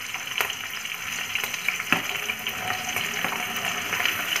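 Radish drops into a hot pan with ajwain for a potato and radish sabji, giving a steady, close crackling sizzle with sharp pops and stirring scrapes, and no voices.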